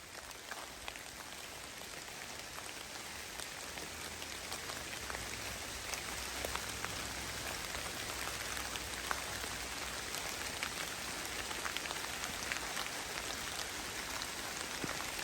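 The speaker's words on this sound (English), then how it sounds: "The more I clean, the better it rains." Steady rain falling and pattering on surfaces, a dense continuous wash of drops at even loudness throughout, with no voices.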